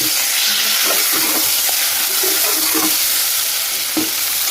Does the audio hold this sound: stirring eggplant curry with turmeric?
yes